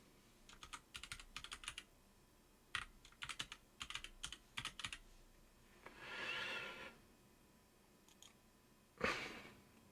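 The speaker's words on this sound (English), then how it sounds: "I type in Google to start off with." Typing on a computer keyboard in short bursts of quick key clicks separated by pauses, close and fairly quiet, with a soft breath or rustle between bursts.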